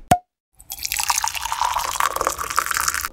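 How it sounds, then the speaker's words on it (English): Water runs steadily into a large pot at the stove, starting with a single drip and then a continuous splashing pour, filling for pasta. "fill a large pot with water and put it on a burner on high on your stove"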